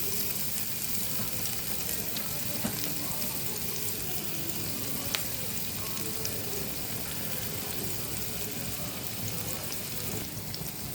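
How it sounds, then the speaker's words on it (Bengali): Carrots and other vegetables for an egg pizza fry in a pan with an even, dense sizzle throughout, broken by occasional light stirring clicks close by. "দিয়ে আমি ভালো করে এগুলো নেড়ে চেড়ে দেবো"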